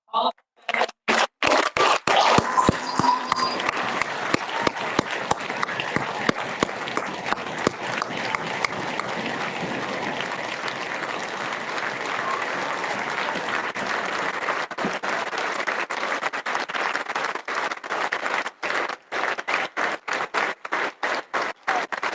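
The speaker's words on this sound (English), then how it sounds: "Let's have one more round of applause for all of our veterans." A crowd at a school Veterans Day event applauds the veterans in a long, steady round of clapping that starts and ends with scattered individual claps.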